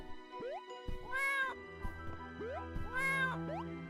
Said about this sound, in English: I hear the kitty cat noises.